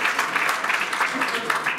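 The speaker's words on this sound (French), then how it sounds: "Je pense qu'on peut applaudir." Audience applause at the close of a panel discussion on economic warfare, a short burst of dense clapping filling the room.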